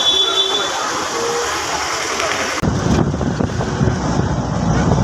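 A Shatabdi Express train rushes past at speed, a loud rolling rumble and rattle of wagons with wind buffeting the microphone, cutting sharply to a closer, rougher clatter partway through.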